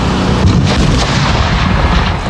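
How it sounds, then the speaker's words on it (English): Simulated explosion staged in downtown Portland during a terrorism response drill, heard as a loud, sustained rumbling blast with dense low-end roar that fills the whole moment, no voices. "Terrorists set off an explosion in downtown Portland."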